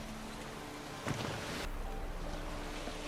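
In the video game Witcher 3, water rushes and swishes steadily around a moving boat, with a brief surge of splashing partway through, fairly loud and with no talk.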